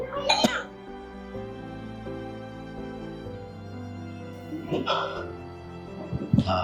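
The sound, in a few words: coughing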